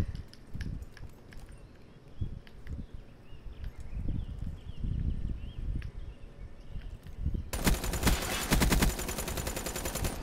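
Rapid machine-gun fire bursts out in a Black Ops 3 Gun Game multiplayer match, dense and loud after a stretch of quieter footsteps and scattered shots.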